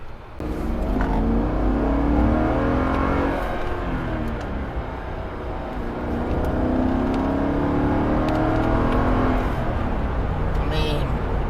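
A Mercedes G 63 AMG SUV engine pulls hard under acceleration from inside the cabin, a steady rising drone that dips briefly and climbs again, with a voice talking over it.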